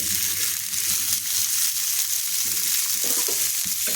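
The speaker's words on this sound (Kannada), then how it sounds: "ಇವು ಎಣ್ಣೆ ಹಚ್ಚಿ ಸ್ವಲ್ಪ ಚೆಂದ ಫ್ರೈ ಮಾಡ್ಕೊತೀನಿ" Chopped matkinkayi pieces fry in a little oil, giving a continuous close hiss and crackle with soft stirring scrapes toward the end, no voices.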